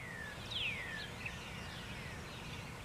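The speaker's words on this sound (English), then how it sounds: "you can hear the birds singing." Birds call outdoors in a few thin, sweeping chirps near the start, fairly faint over a steady low background rumble, with the rest of the stretch quieter.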